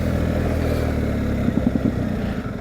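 A motorcycle rides along a road with a loud, steady engine drone, and a brief run of rapid pulsing engine beats comes midway.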